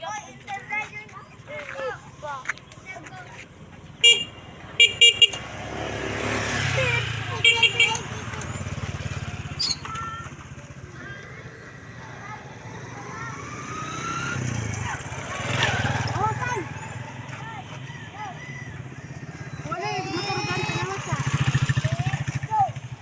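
A motorcycle's engine hums low and fairly quiet beneath a stretch of conversation and occasional shouting, swelling a few times as it moves, with sporadic sharp knocks outdoors.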